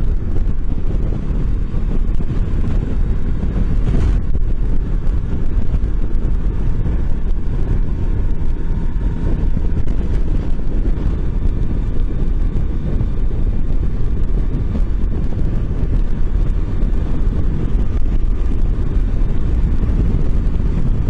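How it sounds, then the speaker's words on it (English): Strong headwind buffets a Honda CB500X motorcycle at 63 mph, a loud continuous roar of wind noise over the engine and road drone, with no talking. "So this is into a very stiff wind, 63 miles an hour."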